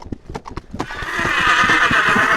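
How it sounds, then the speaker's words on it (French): A nervous horse whinnies loudly at close range after a few sharp, irregular stamping knocks, the neigh swelling and holding steady to the end. "Son cheval, devenu soudainement nerveux, piétine, se cabre, refuse d'avancer."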